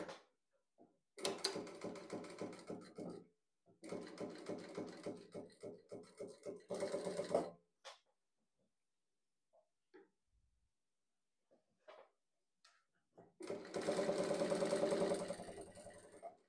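A sewing machine stitches a ruffle on a blouse, running in several steady bursts of rapid, even clatter with short quiet gaps and a few faint clicks between them. One last longer run comes near the end.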